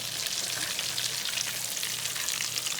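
A fresh rainbow trout fillet fries in oil in a pan, giving a continuous, even hiss of sizzling at moderate loudness with no talking.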